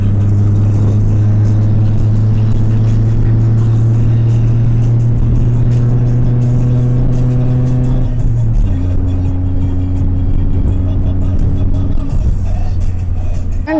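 Steady, loud road traffic with engines droning and idling close by on a congested street in Hosur, a continuous low rumble that shifts pitch partway through as vehicles creep forward.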